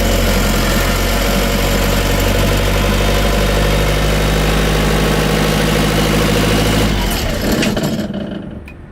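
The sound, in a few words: refrigerated trailer reefer unit engine running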